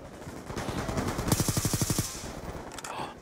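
M27 rifle fire in a first-person shooter game: a rapid burst of evenly spaced shots, loud and close, followed by a short echoing tail.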